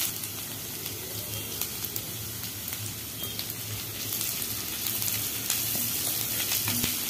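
Curry leaves fry in hot oil in a pan for rava uppittu, giving a continuous close sizzle with scattered crackles and pops that builds slightly toward the end.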